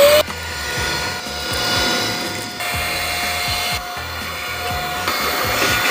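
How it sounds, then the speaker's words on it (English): A cordless handheld vacuum runs steadily throughout with a continuous whirring motor hum and airy hiss, accompanied by scattered bumps and rubbing noises as it moves over small surfaces. "I went on Amazon and found this cordless handheld vacuum"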